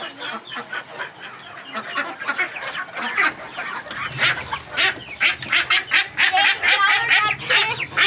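Ducks, among a backyard flock of four, quack loudly and repeatedly up close in rapid bursts, mixed with other fowl noises.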